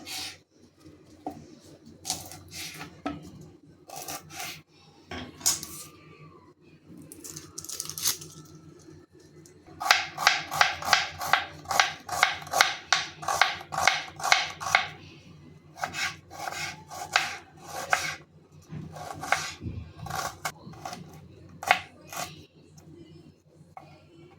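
An onion chopped with a knife on a board: irregular bursts of crisp cutting strokes, sparse at first and then a fast, dense run of rhythmic chops, close and fairly quiet.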